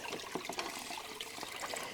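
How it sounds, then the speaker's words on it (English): Water from a gold-prospecting bucket beside a concentrator tank on the Clearwater, pouring and trickling in a steady close splash with small gurgling bursts, fairly loud, with no talking. "then we'll take this bucket of water out of here"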